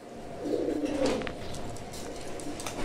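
Pigeons being released coo softly in low, throaty bursts near the listener, with faint chirps and rustling over steady background noise, no speech.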